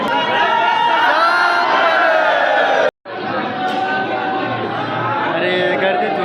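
Dense crowd at the Jotiba temple fair roaring and chanting together, loud and continuous with shouts and chatter, briefly cut off by a sharp gap before the massed voices resume.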